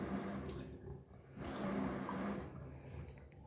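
A kitchen sink tap runs water in a steady, close splashing stream that dips briefly and then resumes.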